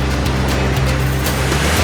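Gentle surf breaking steadily on a Guernsey surfing beach, a continuous broadband wash of water with low rumble, loud and close, with no voices.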